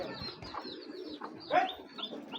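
A racing pigeon coos close by in soft, throaty repeated phrases, with a slightly louder coo midway and faint chirps behind; no talking.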